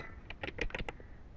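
A short run of quick keystrokes as code is typed on a computer keyboard, close and clear over a low background hiss, with no talking.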